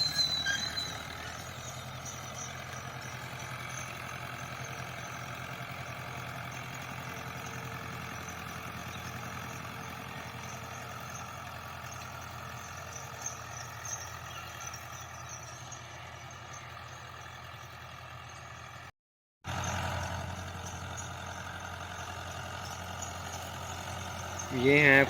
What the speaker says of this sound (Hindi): ये अब ट्रैक्टर चलता जाएगा, पीछे एक बंदा पकड़ के बैठा हुआ थोड़ा वज़न डाल रहा है